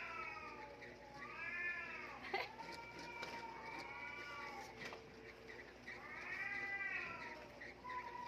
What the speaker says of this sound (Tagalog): Nag-aaway pa yung mga pusa.